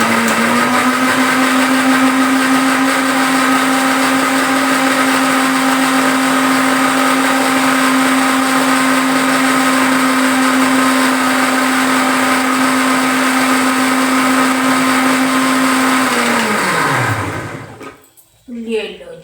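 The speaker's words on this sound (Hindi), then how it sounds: "थोड़ी मटर और है, इसको भी हम ग्राइंड कर देते हैं" A mixer grinder grinds peas in one loud, continuous whirring drone with a steady motor whine, then winds down and stops near the end.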